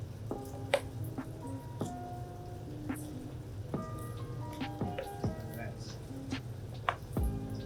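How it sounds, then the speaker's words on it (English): Bare hands mix wet garden soil with water, giving soft irregular squelches and wet squishes with small drips, up close and steady throughout. "mix it all together"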